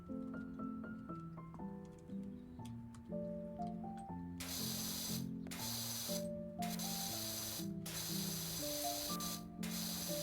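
A cleaning spray nozzle hisses in loud, sustained bursts with short breaks, over a background of tonal music.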